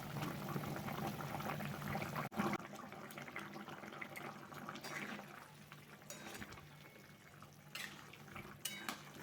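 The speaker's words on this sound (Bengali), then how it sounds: "ভেজে রাখা মাছগুলো দেওয়ার পর আমি দু থেকে তিন মিনিট হাই ফ্লেমে ফুটিয়ে নিয়েছি" Katla fish curry boiling on a high flame in a pan, a steady broadband bubbling and simmering wash with a few faint clinks of cookware, continuous and close throughout with no talk.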